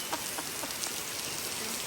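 Chickens and a duck on a Portugal farm cluck in the rain, a few soft, brief calls over a steady hiss of rainfall on soaked outdoor cushions and surfaces.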